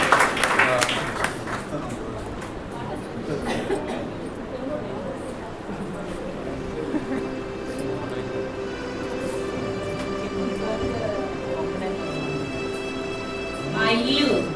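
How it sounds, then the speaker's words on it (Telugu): Church audience at a women's fellowship skit performance claps after the act, a rough scatter of hands at moderate distance that thins over the clip, with talking and background noise mixed in. "అందరు కూడా చప్పట్లు కొట్టారు."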